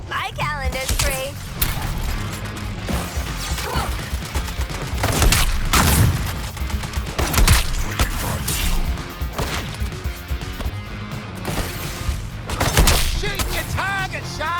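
Heavy gunfire and crashing impacts from Suicide Squad: Kill the Justice League pound almost without pause, loud and dense, layered with booms and whooshes as character voices talk over the combat.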